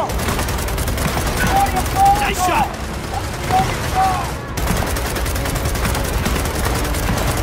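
Gunfire in the Gears of War 4 campaign, continuous rapid automatic bursts at close range with steady crackling fire throughout, voices calling out over it.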